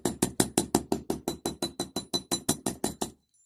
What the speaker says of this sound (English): Hammering strengthens the wire.